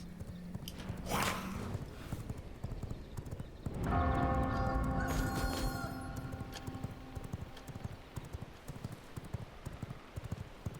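Horse hooves clip-clop in the V Rising video game, an uneven run of light hoofbeats with a brief louder passage midway and faint voices in the background.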